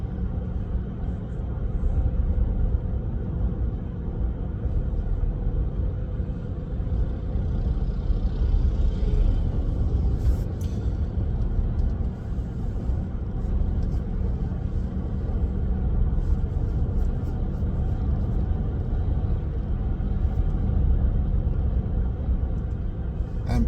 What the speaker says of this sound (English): the only thing you really hear is the tire road noise